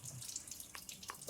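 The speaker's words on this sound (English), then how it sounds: "Give it a good rinse off as well." Tap water running and splashing as an aquatint printing plate is rinsed at a sink, a faint, brief patter with a few drips, no voices.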